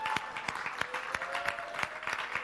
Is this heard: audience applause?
yes